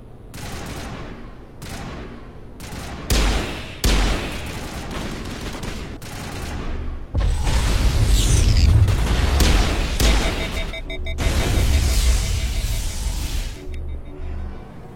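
Series of loud explosions and heavy bursts, some sharp blasts in quick succession then longer rumbling booms with dense crackling, close and powerful, with a voice briefly audible between.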